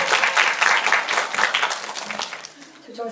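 Audience applause fills a special Hedwig screening with the cast present: dense, steady clapping from a crowd, fairly loud and continuous, thinning slightly toward the end with some voices mixed in.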